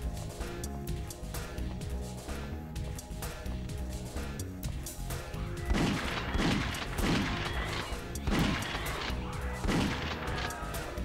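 Repeated shotgun blasts in the PS1 game Alien Trilogy, a series of loud booming shots spaced a second or so apart over a steady droning game soundtrack.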